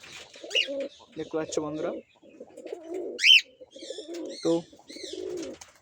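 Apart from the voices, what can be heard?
pigeons cooing on a rooftop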